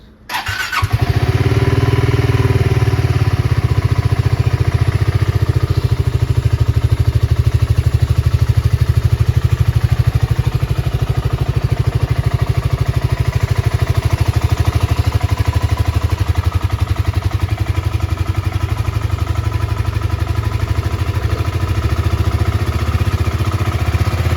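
A 2024 BSA Gold Star motorcycle engine fires up from cold after a brief start and settles into a steady, loud, lumpy idle that runs on without a break.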